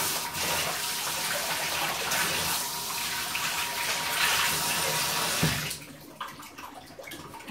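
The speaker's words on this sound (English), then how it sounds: "I'm gonna turn my water back on and rinse my feet off." Tap water runs steadily in a loud, broad gush while feet are rinsed, then cuts off near the end, leaving quieter dripping and handling sounds; no talk.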